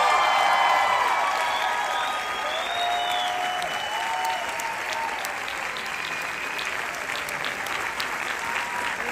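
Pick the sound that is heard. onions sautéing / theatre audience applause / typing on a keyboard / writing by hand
theatre audience applause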